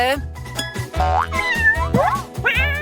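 A cartoon kitten meows in short, high, rising and falling cries over a bouncy musical background, with voices talking between the meows.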